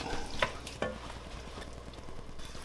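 Chopped vegetables, garlic and onions cooking in a pan for vegan spaghetti sauce, with a soft steady sizzle and a couple of brief stirring clatters near the start.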